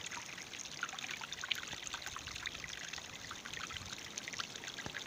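Steady rushing water of Bluff Knoll waterfall pours and splashes continuously, a dense even roar with no voices.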